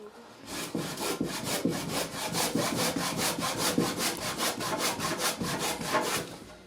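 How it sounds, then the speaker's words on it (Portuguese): A hand saw cuts into the wooden nose of a carved mask in quick, even back-and-forth strokes, a steady rasping rhythm of about twenty strokes, close and alone. "Agora vou utilizar o serrote para cortar uma parte do nariz."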